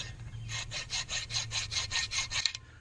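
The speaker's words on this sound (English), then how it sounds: "A file will actually grind down the rust and get rid of it." A small square hand file scraping rust off a Chevy Impala front brake rotor, about ten steady rhythmic rasping strokes, close and clear.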